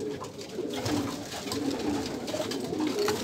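Pigeons coo in soft, repeated throaty calls that overlap one another at close range against a busy background hum.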